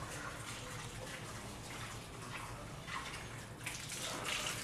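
Water is poured onto the soil of a potted money plant cutting, making a soft, continuous splashing and trickling at close range with no voices.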